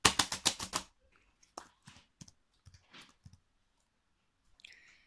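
A burst of fast, loud clacking on a sturdy computer keyboard, followed by scattered softer key taps and clicks with quiet gaps between them.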